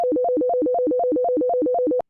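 A synthesized FM tone, phase-modulation index set above 8 pi, repeats a fast, buzzy pitch pattern whose carrier steps up and down like a staircase, pulsing evenly about every quarter second for two seconds before cutting off.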